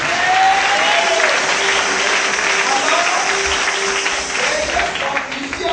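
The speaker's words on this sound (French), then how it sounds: "Acclame le Seigneur Jésus-Christ" Church congregation applauding steadily and loudly throughout, a dense wash of clapping with a few voices mixed in during a worship service.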